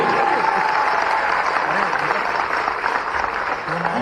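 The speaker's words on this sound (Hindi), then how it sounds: "जोरदार ताली बजाए इसकी आवाज के लिए।" An audience applauds a young female singer at a government scheme launch event, steady dense clapping held throughout at close range, with a voice speaking over it.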